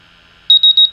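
A MultiRAE gas detector sounds its alarm after a dry-erase marker is held near its VOC sensor: three loud, rapid bursts of high piercing beeps, close up, with no talking.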